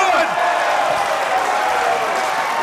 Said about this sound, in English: The crowd roars their approval.